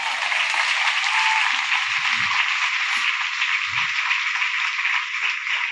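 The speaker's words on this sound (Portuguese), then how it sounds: "Alguém pode aplaudir Jesus bem forte sobre isso?" Steady, dense clapping from a large crowd at a church conference, loud and continuous throughout, with a few low thumps and murmurs beneath the even wash of hands.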